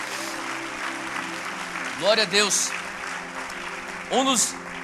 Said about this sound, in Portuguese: Será que você pode dar uma salva de palmas para Jesus por isso?